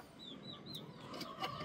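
Mother chukar partridge clucking softly near her chicks, a few faint clucks and high peeps scattered over low background noise, fairly quiet and close.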